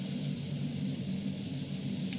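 A steady airliner engine roar drones in the airport management game Airport CEO, a constant mid-loud rumble with a thin high whine and no talking.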